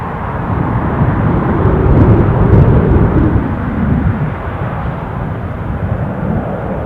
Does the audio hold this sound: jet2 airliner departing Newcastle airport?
yes